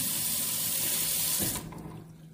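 Tap water runs steadily into a sink while hands are rinsed under it, a close, broadband splashing that cuts off abruptly near the end, leaving a quieter residual trickle.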